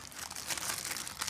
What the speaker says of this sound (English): peel off the parchment